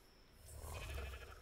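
Sheep bleating from an Ovis in the ARK video game, a single drawn-out bleat that swells in the middle and fades out, heard alone at moderate loudness.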